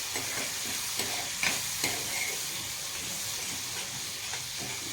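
Steady sizzling and frying of a spice paste in a hot pan, with a few soft stirring scrapes and clinks over a constant hiss.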